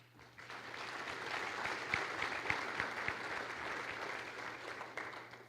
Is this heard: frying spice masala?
no